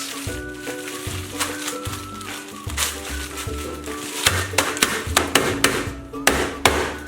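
Garlic being crushed: repeated thuds and pounding knocks on a hard surface, speeding into a rapid, loud crushing rhythm toward the end.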